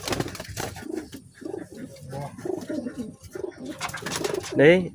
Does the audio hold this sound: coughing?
no